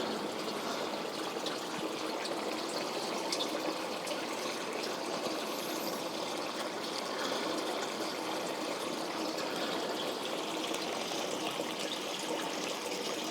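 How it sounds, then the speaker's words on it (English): Water runs steadily through an old mossy fountain in an abandoned hall, a continuous soft trickling wash heard close and unbroken with no voices. "I can hear water flowing through this one"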